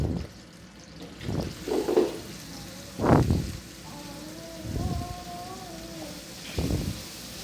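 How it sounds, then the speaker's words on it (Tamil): Chopped onions hit a hot pan for a babycorn paneer masala, giving a series of short sizzling, spattering bursts at close range. "3 வெங்காயம் கட் பண்ணி வச்சுருக்கேன். அதை போட்டுக்கலாம்."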